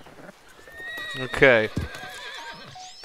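A horse whinnies loudly in Red Dead Redemption 2, a rising then falling neigh with hoof clops, heard close amid gameplay sounds while someone speaks briefly.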